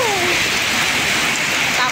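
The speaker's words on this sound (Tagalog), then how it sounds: "Lakas ng ulan." Heavy rain pours down in a steady, dense hiss that fills the whole two seconds, close and loud with no break.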